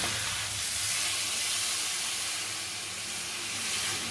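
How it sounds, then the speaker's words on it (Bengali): Katla fish fries in a pan with a steady, dense sizzle and hiss of hot oil, close and continuous throughout, with no voices over it. "এই যে কাতল মাছ ভাজি করে নিচ্ছি"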